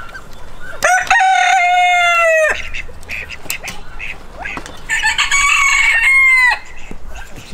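Wheat mottled and red mottled hens in a breeding flock call out close by, with two loud, drawn-out vocal bursts separated by quieter scattered clucks and rustling.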